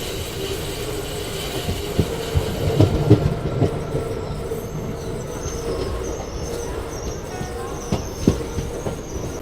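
A train rolls into Anand railway station with steady rumbling rail noise, clanking wagons and brief wheel squeals, heard from on board, with faint voices in the background.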